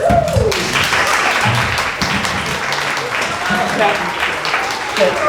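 An audience claps at a school spring concert, a dense, fairly loud patter of many hands with people talking over it.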